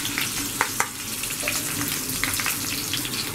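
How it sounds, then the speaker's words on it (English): Sliced ginger and garlic sizzling in a pan for Kerala chicken curry, a steady close frying hiss with scattered crackles and light stirring clicks. "Now add in sliced ginger and garlic."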